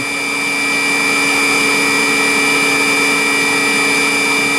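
An Eldorado M60 counter-rotation gun drill runs with a constant, loud machine drone and a steady high whine, holding even throughout with no speech.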